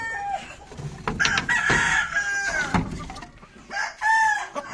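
Backyard roosters in a small Filipino home flock crow in several drawn-out calls, one after another across a few seconds, fairly close, mixed with clucking from the other fowl.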